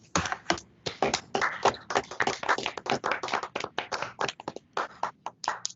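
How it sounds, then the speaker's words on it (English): A small group at an award ceremony claps steadily, loud and close, with uneven individual claps that thin out toward the end. "applause for both of our new inductees"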